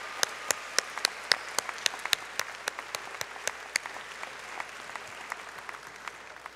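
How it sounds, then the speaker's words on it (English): A university convocation audience claps steadily for students, with sharp individual hand claps standing out over a dense, continuous patter of applause, no voices. "Let's give another round of applause to these students."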